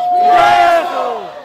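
A crowd at a Republic Day cultural celebration roars a slogan together, a loud unified shout that swells and then tapers off.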